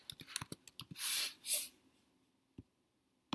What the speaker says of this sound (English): So let me type something